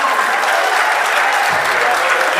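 Audience applause at a Hindi comic poetry recital (hasya kavi sammelan), a steady, dense clapping from a crowd that carries loudly and evenly throughout.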